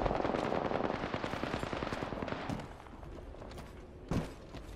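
Rapid automatic gunfire in the Apex Legends battle royale game, a dense burst of close shots for over two seconds, then quieter scattered pops and one sharper shot near the end.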